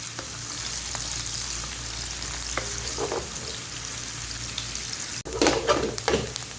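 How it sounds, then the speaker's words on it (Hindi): Chopped onions fry in oil in a pan for Punjabi kadhi pakora, a dense, steady close-up sizzle, with a few louder stirring scrapes near the end. "अब इसको अच्छे तरीके से मैं फ्राई करूँगी इसका कलर आने तक"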